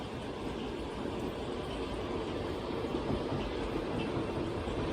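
A train rolls past near Takao, Japan with a steady, faint rumbling roar that holds evenly throughout, heard from a hiking trail nearby with no voices.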